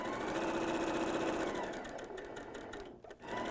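A sewing machine runs steadily while stitching quilt block pieces, a close continuous whir that slows and stops briefly near the end before starting again.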